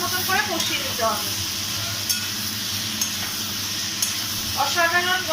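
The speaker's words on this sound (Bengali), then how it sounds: "এবার এটাকে ভালো করে কষিয়ে নিতে হবে, একদম ভালো মতন করে কষিয়ে নিতে হবে।" Sambar masala spices stir-fried in a pan, a loud steady sizzle with repeated spoon strokes scraping through it and occasional light knocks.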